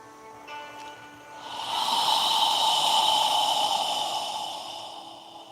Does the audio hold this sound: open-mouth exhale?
yes